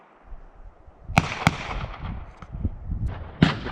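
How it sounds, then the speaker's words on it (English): Gunshots from a shooting range beside a campsite in Eastern Oregon come as several distant sharp cracks, irregular and spaced apart, over a low outdoor background with no one talking. "there's also a shooting range at our campsite"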